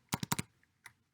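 Short burst of typing on a computer keyboard: four quick close clicks in a cluster, a pause, then one more single keystroke, faint and alone.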